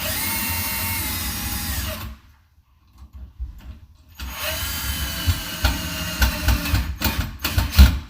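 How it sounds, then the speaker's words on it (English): A power drill whirs in repeated bursts, stopping and starting as screws are driven, with clunks and handling noise between runs and a quiet gap midway. "I can use my drill and drill these bad boys in"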